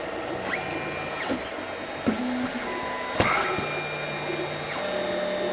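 An Anycubic Chiron 3D printer runs close by, its stepper motors whirring in shifting tones and changing pitch between moves, steady throughout with no talking.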